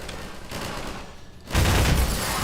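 Rapid automatic turret gunfire from Half-Life 2 in a dense burst, growing louder and heavier in the second half of the short stretch, with no talking.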